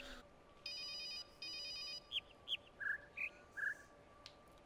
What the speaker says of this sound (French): Et là, écoute l'oiseau.